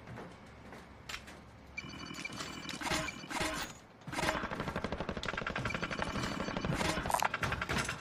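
Decoy grenade in Call of Duty Warzone firing fake gunfire: a loud, dense burst of rapid shots and sharp cracks builds from the start and runs almost continuously through the second half, with scattered game effects layered in.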